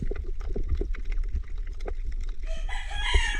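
A rooster crows loudly near the end, following a stretch of splashing water and rhythmic paddling sounds.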